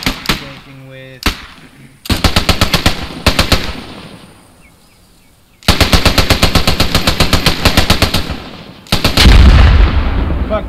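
Gunfire in the World War II shooter Post Scriptum, with loud, close machine-gun bursts in rapid rhythmic volleys separated by quieter gaps, ending in a heavy grenade explosion.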